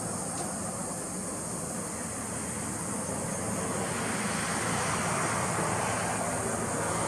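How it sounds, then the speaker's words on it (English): A loud airboat running out on open water, its steady broadband engine and propeller roar mixed with rushing wind noise, holding continuously at close range with no talking. "Who needs cars when we have airboats?"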